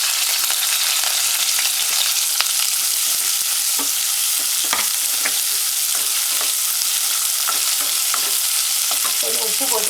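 Chopped onion and green chillies fry and sizzle steadily in hot oil in a pan while being stirred, with soft spoon scrapes and clinks cutting through the constant hiss.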